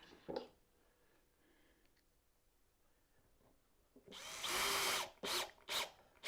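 A power drill drives screws into a wooden dovetailed keepsake box: a short buzz early, then a louder sustained whir and two quick bursts, close, with quiet shop room tone between.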